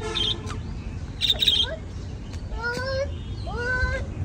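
Birds sing and chirp in the early morning, a mix of squawks and rising whistled calls at moderate distance, with faint background voices.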